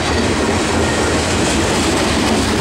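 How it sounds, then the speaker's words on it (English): A long Norfolk Southern manifest freight train rolls southbound on the Piedmont Division near Charlotte, a steady loud rumble of wheels and cars with faint rhythmic clatter throughout, no voices. "right now it is a some sort of manifest train going southbound."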